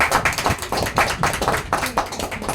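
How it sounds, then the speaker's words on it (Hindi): An audience at a home business meeting claps hands in a lively, fairly even burst of applause, close and continuous throughout. "एक बार बहुत बढ़िया से ताली बजा दीजिए"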